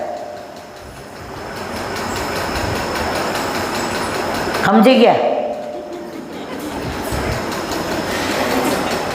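A moving train rumbles steadily on the rails, with a louder passing burst midway and a brief metallic squeal, while people inside talk over the continuous noise.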